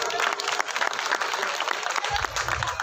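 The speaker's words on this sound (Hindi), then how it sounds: "एक बिटिया सोनम बहुत सुंदर भजन गाया, उसके लिए जोरदार तालियां।" Enthusiastic audience clapping at a Ramleela stage event in a railway colony, following a devotional bhajan sung by a young girl; dense, steady applause fills the whole stretch, with a low rumble joining near the end.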